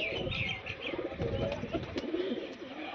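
Pigeons coo in soft, rolling murmurs close by, with some chirping mixed into a busy background.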